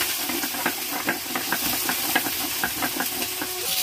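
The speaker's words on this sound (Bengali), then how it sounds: "এই যে মা রান্না করছে" Ghugni being cooked by a mother on a stove gives off a steady, loud hiss with a quick, regular knocking pulse running through it, close by and with no talk.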